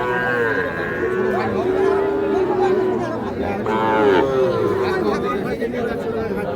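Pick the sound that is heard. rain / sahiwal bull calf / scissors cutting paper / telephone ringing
sahiwal bull calf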